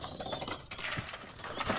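Soft, low pigeon coos sound faintly a couple of times amid light background noise.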